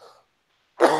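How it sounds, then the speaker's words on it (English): A single sharp cough bursts out loud and close after a brief silence, rough and throaty. "Sorry for coughing in your ear."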